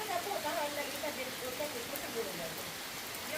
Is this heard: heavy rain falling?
yes